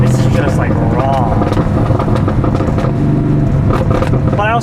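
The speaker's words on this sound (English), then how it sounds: "I also don't know if it should backfire that much on decel" An air-cooled Porsche 911 engine comes off throttle on deceleration, its raw exhaust note falling in pitch while backfires crackle and pop, loud and close.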